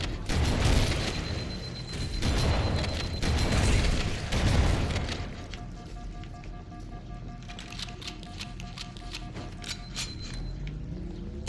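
Grenade explosions in a Halo game on the Library level, heavy booming blasts rumbling in a dense, continuous wash of game noise that later settles into mechanical clatter and rapid gunfire-like ticks.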